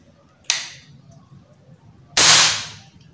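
Two sharp snapping shots from a handmade wooden uklik toy gun with a trigger, the second louder and longer, with light room noise and faint talk between them.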